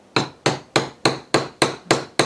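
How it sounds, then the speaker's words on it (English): Steady metal-on-metal tapping as a hammer drives a nail set into a small divot on a domed metal ring piece, eight sharp, evenly spaced strikes with short ringing decays, close and alone. "I'm going to put my nail set into that little divot we made earlier, and I'm going to tap it down."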